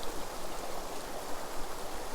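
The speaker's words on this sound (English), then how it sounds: "And that's the waterfall." A waterfall at Southwick nature reserve on the Solway pours steadily, a continuous, even rushing of water heard at moderate distance with no one speaking.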